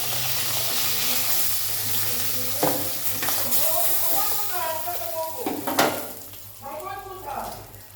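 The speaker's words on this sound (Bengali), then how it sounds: "মাছটা উঠিয়ে দিচ্ছি, ভাজা হয়ে গেছে।" Small modhu tangra fish fry in hot oil in a pan, crackling continuously while a utensil stirs and scrapes in irregular bursts, close and clear, with a voice speaking over the cooking.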